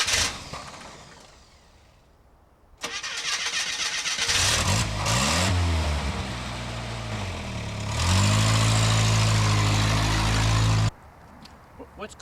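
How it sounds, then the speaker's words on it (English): An old junk truck engine cranks and catches, then runs rough and revs before pulling away, loud and close, with gear-driven whine rising and falling as it drives off. "So we're gonna hop in our old junk truck here, and we're gonna take off"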